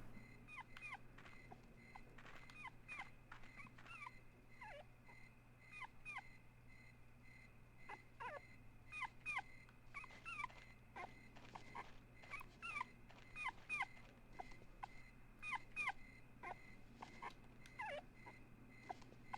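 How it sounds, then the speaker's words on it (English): A dog barks and yips repeatedly in a retro video game, a steady series of sharp, moderately loud calls over a low background hum with no talking. "she heard a dog's bark"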